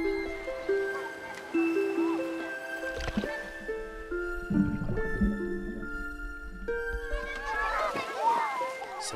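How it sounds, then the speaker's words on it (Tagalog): A child scooping water, with wet sloshing, dripping and squishing sounds in uneven bursts at close range, heard under a voice talking throughout. "matyagang sumasalok ng tubig tulad ng utos ni teacher"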